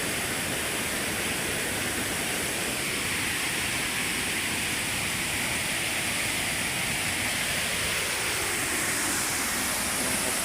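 A constant, heavy roar of rushing floodwater after light rain, loud and broadband, continuing unbroken without any talking.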